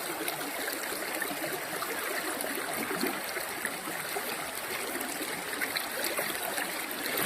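Swift, clear river water on the Jacks Fork in Missouri rushes and splashes against a wader's legs, a dense, steady close-up babble with no talking.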